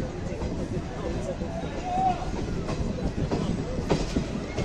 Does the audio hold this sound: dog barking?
no